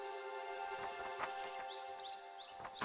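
Birds in the video game Bye Sweet Carole chirp in short, bright, repeated tweets at a steady pace over a sustained tonal music drone, close and clear.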